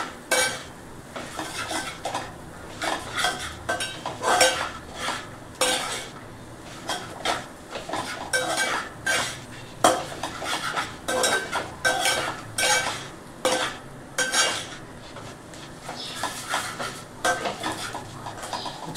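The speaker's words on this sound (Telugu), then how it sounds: "ఒకసారి బాగా కలుపుకోవాలి." A metal spoon stirs chili powder into a mixture in a frying pan, scraping and clinking repeatedly in quick uneven bursts against the pan, close and fairly loud, with no talking.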